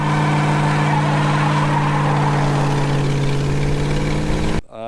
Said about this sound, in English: Think this thing can do a burnout?